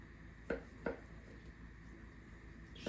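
A few sharp knife chops cut dough into strips on a board, two close together and another near the end, against a quiet background.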